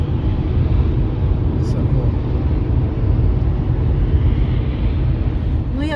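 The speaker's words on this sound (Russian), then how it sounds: "смотри, какой с парами самолет летит" Broad, steady rumble of an airplane passing overhead outdoors, holding at an even loudness across the span with no clear rise or fade, with faint background noise around it.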